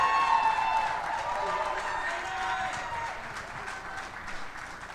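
A live crowd at a Green Bay Packers clubhouse event applauds and cheers to lift a guest's spirits, with steady, dense clapping holding for several seconds before easing slightly.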